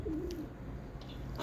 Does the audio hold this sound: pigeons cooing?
yes